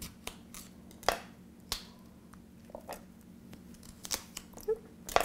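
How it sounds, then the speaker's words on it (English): Paring knife cutting the core out of a fennel bulb: scattered crisp snips and small cracks of blade through firm vegetable, close but faint, with quiet pauses between cuts and no speech. "I'm going to use a paring knife to cut it out."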